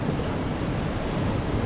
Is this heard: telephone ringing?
no